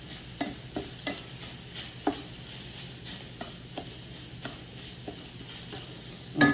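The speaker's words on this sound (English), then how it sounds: "Need to stir up my sausage." Sausage frying in a pan being stirred, a spoon scraping and tapping at intervals over a continuous close sizzle.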